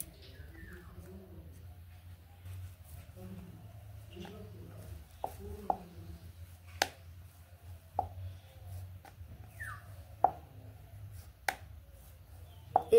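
Dalpuri dough being rolled out with a rolling pin for home-style dal puri, giving soft scattered taps and clicks over a low steady hum, with sharper knocks as the pin meets the board.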